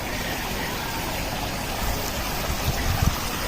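Water pours steadily into a swimming pool by a club house, a constant loud rushing splash like a stream, with a few heavier gurgling bursts toward the end and no voices.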